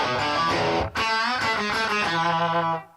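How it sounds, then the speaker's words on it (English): A Fender Jaguar electric guitar played through distortion, sustained overdriven chords ringing loud and close with a brief break near the start, then fading out at the end. "I want to switch to a distortion."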